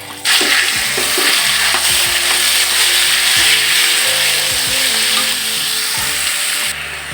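Chicken breast fries in a little oil with grated ginger and garlic, a steady loud sizzle running throughout with occasional stirring clatter, no voices.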